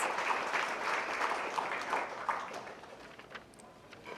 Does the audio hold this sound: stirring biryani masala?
no